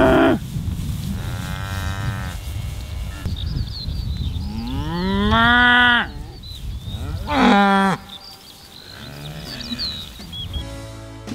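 Several cows moo nearby on farmland beside a narrowboat, long drawn-out calls alternating with quieter gaps and soft background rustle.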